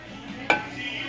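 A single sharp clink of ceramic plates being handled in a homeware store's crockery section, brief and close against a steady hum of shop background noise.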